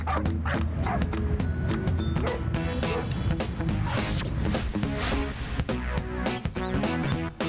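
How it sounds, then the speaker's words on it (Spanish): A grumpy Shih Tzu yips and barks in short bursts amid a busy, cluttered background with music-like tones, the small dog's sharp barks scattered through the whole stretch. "Ananis, es una perrita Shih Tzu bastante cascarrabias."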